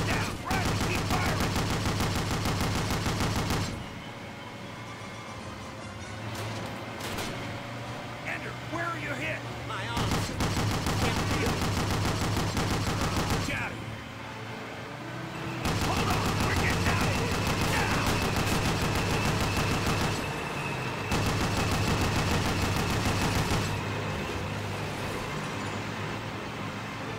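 Sustained gunfire and battle noise from Call of Duty (Call of Duty 1 / United Offensive), dense and loud throughout with shifting intensity between scenes, mixed with game voices and background music.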